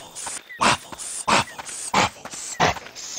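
A dog whimpers and yips in a steady series of high, strained cries, close and loud, with no talking over it.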